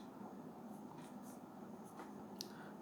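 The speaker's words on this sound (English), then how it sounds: "we'll write the equation of the line: 3x minus 3y equal to 16" A pen scratches out an equation by hand on paper, a quiet continuous scribble with small strokes and taps, close up and with no one speaking.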